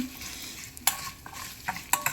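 A tempering of urad dal, mustard seeds, cumin and dried red chillies crackles in hot oil for an instant mint chutney. Soft sizzling sits under a few sharp spoon-stirring scrapes and clinks, close and fairly quiet.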